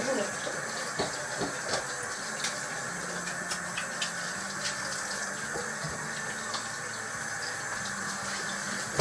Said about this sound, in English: now we'll rinse our hands